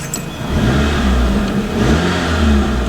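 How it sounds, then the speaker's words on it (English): A 2007 PT Cruiser Touring Edition engine revs up smoothly without hesitation or backfiring, its pitch rising and falling in two swells over a few seconds. "Engine winds up nice. No hesitation, no backfiring."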